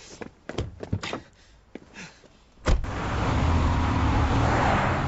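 A car speeds away in a getaway: a few door thunks and knocks, then a sudden loud burst into a sustained engine roar and road noise that holds to the end.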